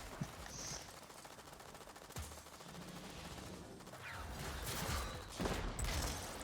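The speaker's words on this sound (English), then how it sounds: "those turrets are everywhere and they shoot quick" Rapid turret gunfire in Destiny 2 chatters in dense bursts through the clip, growing louder and more crowded toward the end, with no talk over it.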